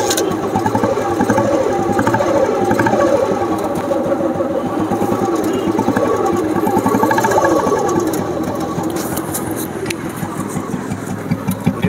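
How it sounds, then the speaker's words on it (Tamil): A 1998 Royal Enfield Bullet motorcycle's single-cylinder engine runs close by at a steady idle, its even thumping beat continuing loudly for the whole stretch without pause. "வண்டி எப்படி இருக்குதுன்னு சொல்லி ஸ்டார்ட் பண்ணி காட்டுறேன் பாருங்கள்."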